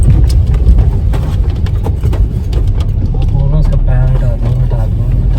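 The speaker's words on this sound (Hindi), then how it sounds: "ये शायद ये आर्मी वाली गाड़ियाँ जा रही हैं ज़्यादा, इस वजह से इस तरफ से ट्रैफिक हो रही है" Army vehicles pass in heavy traffic, a deep rumble of engines and road noise close by, loud and continuous, with someone talking over it.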